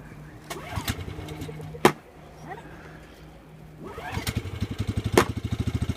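A snowmobile engine sputters through failed cranks with sharp pull-start thumps, then catches and settles into a rapid, steady putter close by, with brief voices in between.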